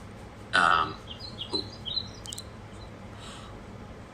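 A short, bright electronic chirp from a bird-sound alarm rings out once, followed by fainter warbling tweets over a low background hum; no one speaks.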